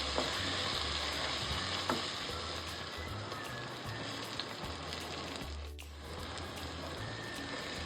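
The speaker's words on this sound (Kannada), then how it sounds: "ಇದೆಲ್ಲ ಚೆನ್ನಾಗಿ ಫ್ರೈ ಆಗಿ ಒಂದು 5 ರಿಂದ 6 ನಿಮಿಷ ಆಗುತ್ತೆ ಫ್ರೈ ಆಗೋದಕ್ಕೆ" Spices and chicken curry base fry in a pressure cooker, a steady dense sizzle running close and loud throughout with light stirring scrapes, no voices.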